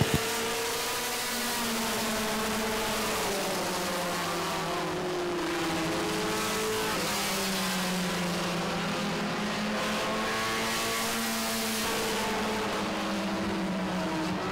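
Race cars roaring around the track at Baer Field Motorsports Park, a loud continuous engine drone with rising and falling revs as the cars accelerate past, filling the whole stretch without talk.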